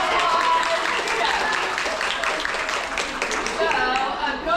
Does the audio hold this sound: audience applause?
yes